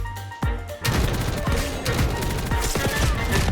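Rapid gunfire from a rifle in the shooter game Black Ops 6, a dense stream of loud shots with sharp individual reports over busy game background noise.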